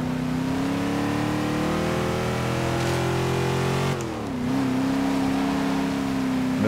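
Car engine held at full throttle in Forza Horizon 3, a steady loud drone that rises gradually, briefly dips as if shifting, then resumes at high revs.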